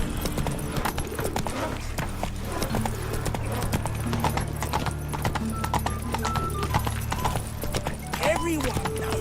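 Horse hooves clip-clop steadily in The Witcher 3, close and continuous, with an occasional whinny, under game dialogue and background ambience.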